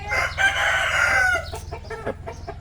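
A young rooster raised for cockfighting gives a loud, close crow followed by a few short clucks, heard alone with a low steady hum underneath.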